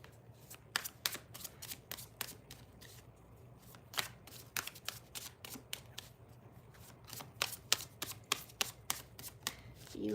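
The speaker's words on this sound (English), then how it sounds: "I'm just giving the decks a shuffle." Decks of tarot cards are shuffled in a quiet room during a live reading, a run of crisp riffling flicks and soft slaps in an uneven rhythm, close and fairly faint.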